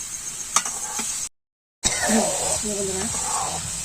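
Vegetables fry with spices in a pan, giving a steady, close sizzle and hiss with occasional stirring scrapes. The sound breaks off briefly into silence and then resumes, with a voice talking over the cooking.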